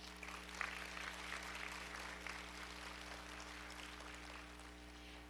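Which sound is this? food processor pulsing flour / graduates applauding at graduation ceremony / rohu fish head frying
graduates applauding at graduation ceremony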